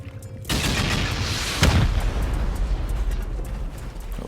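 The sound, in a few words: rockets fired at a base in a video game (Rust raid)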